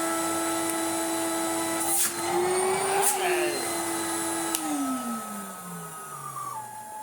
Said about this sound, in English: There's still a nice amount of suction in there.